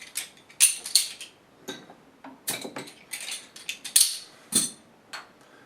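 Cap pried off a Maine Beer Co. MO Pale Ale bottle, heard as a run of close, sharp metallic clicks and clinks in short bursts with brief gaps, no voices.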